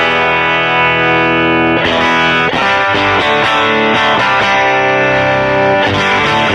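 Electric guitar played through a tone shaper pedal with the gain turned up, giving a dirty, amp-like overdriven tone. Loud chords ring out and change every second or so, with no voices.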